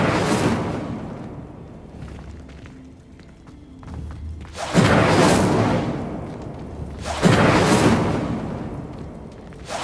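Incendio fire spell cast in Hogwarts Legacy: two loud, sudden bursts of roaring flame, each flaring up sharply and then fading over a couple of seconds, with quieter ambience between.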